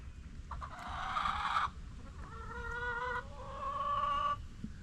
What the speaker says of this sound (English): There's old chickens.